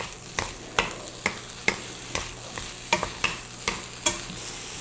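Vegetables for namul stir-frying in a pan, with a low sizzle under a regular series of sharp utensil scrapes and taps about every half second, close and fairly loud, without talk.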